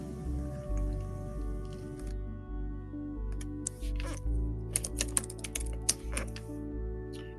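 Computer keyboard keys tapping in a quiet room, a burst of quick irregular clicks in the latter half after a stretch of low background hum, fairly close and soft.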